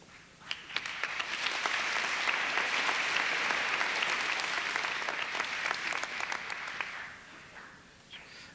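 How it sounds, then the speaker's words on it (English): A high school graduation audience applauds in a hall, a dense sustained clapping that swells quickly, holds for several seconds, then thins out toward the end. "I noticed the applause was not as great as the young singers received"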